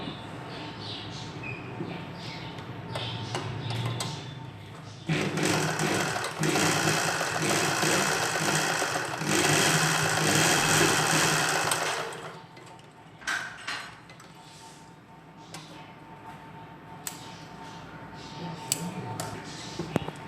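A sewing machine stitches nighty fabric in one long, loud, steady run through the middle, with quieter handling clicks and rustles before and after it.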